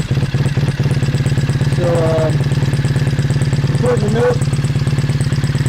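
A restored Triumph motorcycle engine idles close by with a steady, even, throbbing rhythm, while someone talks over it.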